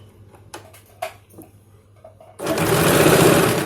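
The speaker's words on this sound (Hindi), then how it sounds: "इस तरह से पकड़ करके इस तरह से चारों तरफ पहले सिलाई लगा लेंगे" A few soft handling clicks and rustles, then a sewing machine starts up and whirs loudly and steadily, stitching around the edges of a straight salwar up close.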